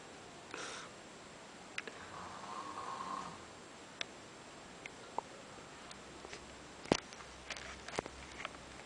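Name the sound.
woman snoring while asleep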